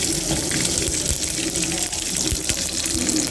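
Mustard seeds splutter in hot oil while crab rasam is being cooked, a loud, steady hissing crackle that runs unbroken throughout with no voices.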